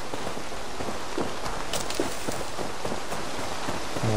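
Rain falls continuously in the world of Assassin's Creed Valhalla, an even, close hiss of drops pattering on surfaces with a few sharper splashes and no voices.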